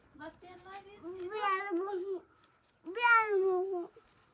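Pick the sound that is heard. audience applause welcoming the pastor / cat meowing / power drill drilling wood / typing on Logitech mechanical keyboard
cat meowing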